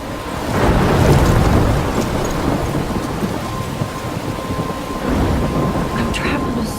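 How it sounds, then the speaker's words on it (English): Thunderstorm with heavy rain in the video game Life is Strange, a steady loud downpour with deep rolling thunder swelling near the start and again late, filling the whole stretch. "I'm trapped in a storm?"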